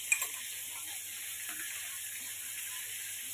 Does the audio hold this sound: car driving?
no